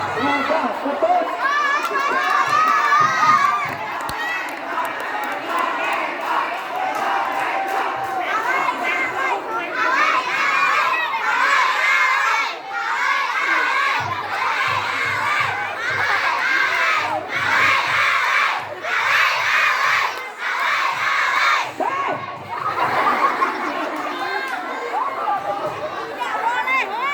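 Students at a school student-council election debate shout and cheer together as a crowd, a dense, continuous mass of high excited voices with rhythmic surging chants and bursts throughout.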